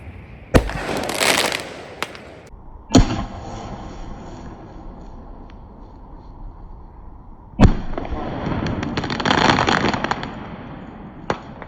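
An AR-15 rifle firing novelty freedom rounds, with three sharp, loud reports outdoors, each trailed by a long crackling, sizzling tail.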